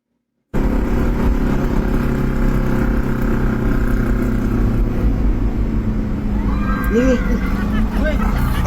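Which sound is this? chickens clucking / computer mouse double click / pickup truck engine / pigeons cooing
pickup truck engine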